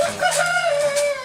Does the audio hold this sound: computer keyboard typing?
no